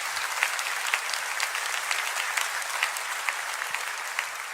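A church congregation applauds, sustained clapping from a large crowd that runs dense and even for several seconds, with no voices over it.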